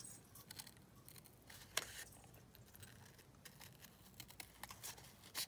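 Scissors snip out paper pieces from an old book page for junk journal cards, a quiet, close run of sharp irregular cuts and crinkles.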